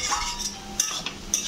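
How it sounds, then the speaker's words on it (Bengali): Coriander, ginger, cumin and chilli powder being stir-fried in a pan, mostly metal spoon clinks and scrapes against the pan in a few quick strokes, close and short, with only faint sizzling underneath. "এবার এটা ভালো করে কষিয়ে নেব।"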